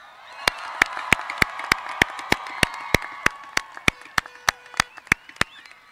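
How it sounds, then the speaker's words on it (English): Parents at the 2023 Belleview High School commencement give the graduates another round of applause; sharp, evenly spaced claps ring out close by, about twenty in a row, over a faint crowd murmur. "Parents, let's give them one more round of applause."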